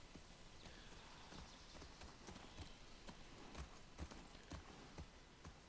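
Horse hooves clip-clop in The Last of Us Part II, a steady walking rhythm of distinct hoof strikes over a constant outdoor ambience, heard without talk.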